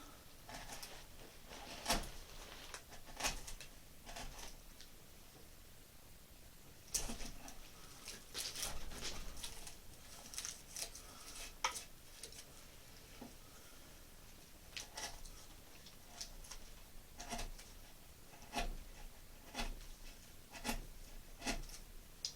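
A hand tool pares the wooden sidewall of a canvasback decoy held in a vise, a quiet series of short scraping cuts and light taps spaced irregularly against a faint room hiss.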